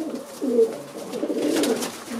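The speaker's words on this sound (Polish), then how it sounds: "Są to średniej długości gołębie." Racing pigeons of medium length coo close by in a loft, giving a loud, rolling, continuous series of throaty coos with no voices over them.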